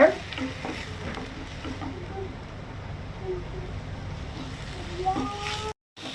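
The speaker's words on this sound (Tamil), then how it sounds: "அந்த எண்ணெயில் நம்ம ஒரு பெரிய சைஸ் வெங்காயம் வெட்டி எடுந்தோம்ல, அதை போட்டுடலாம். போட்டு நல்லா வதக்குங்க." A large chopped onion sautés in hot oil, a low steady sizzle with occasional spoon scrapes, ending in a brief silent gap.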